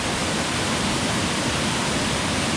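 Waterfall at Fraser Hill roaring as a steady, dense broadband rush of falling water, close and loud, with no voices over it.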